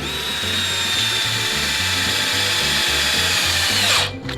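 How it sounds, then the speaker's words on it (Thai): A power drill whines steadily at close range with a rhythmic pulsing grind as the bit bores through a steel shelf frame, then cuts off abruptly near the end. "ผมก็จะใช้แทนดอกสว่านเลยนะ"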